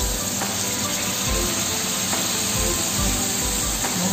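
Pork wrap frying in oil, a loud, continuous close sizzle and hiss with small pops and crackles throughout, no voices.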